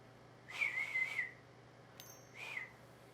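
Two short whistled notes from a person, a longer wavering tone followed by a brief second one, fairly faint against a low steady hum with no talking.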